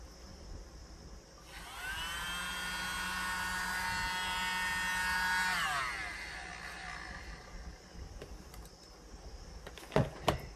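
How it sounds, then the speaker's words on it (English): A small mini blower aimed at an acrylic paint pour on a 4x4 inch tile, a thin high-pitched motor whine that starts up, holds steady for several seconds, then winds down, followed by a few faint clicks. "let's get our little blower and see what we get from using those darker colors"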